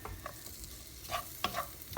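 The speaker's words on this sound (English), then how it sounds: "we're just going to fry this until it's sort of a golden brown color" Onion frying in sunflower or olive oil over medium to high heat crackles with a soft sizzle, broken by brief scraping stirs and a few sharper spits, close and fairly quiet with no talk.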